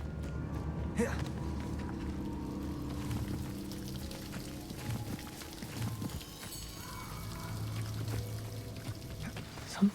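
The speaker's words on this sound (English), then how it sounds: "The waterfall." Waterfall in the Hogwarts Legacy video game gives off a steady, continuous rush of falling water that fills the scene at moderate volume, with low game ambience underneath and no pauses.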